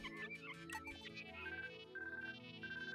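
A phone rings in Pikmin 3 Deluxe, the ancient communication device giving off a repeating electronic ringtone of short high beeps over continuous game music, fairly loud and steady throughout.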